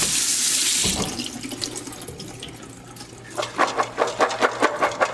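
Tap water pours hard into a sink as beans sit in a strainer, rinsing off baking soda, in a loud continuous gush that later breaks into uneven splashing pulses.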